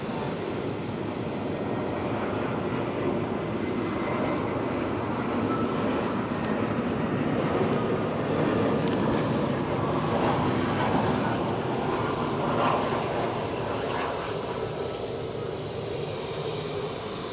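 An inbound EasyJet airliner approaches Edinburgh Airport, its engines producing a broad, steady roar that holds at a constant level throughout.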